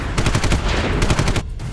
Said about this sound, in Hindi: अमेरिका में कैलिफोर्निया के सैन बर्नार्डिनो में धुआंधार गोलियां चलती हैं।